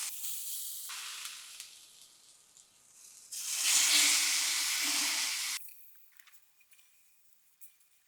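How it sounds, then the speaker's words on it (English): A steak sears on a Weber kettle grill with a loud, hissing sizzle that comes in bursts, swelling sharply in the middle before it drops back to quiet crackles. "now let's sear this steak"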